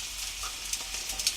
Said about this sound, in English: And just let them fry up.